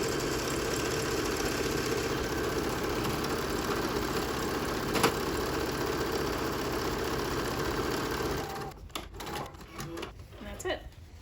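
A sewing machine runs steadily for about eight seconds, stitching bias tape into a tie for a fabric face mask, then stops, leaving a few quiet clicks and handling sounds.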